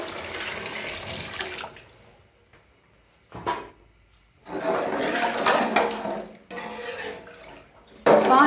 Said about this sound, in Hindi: लीटर हमने इसके अंदर पानी शामिल किया है।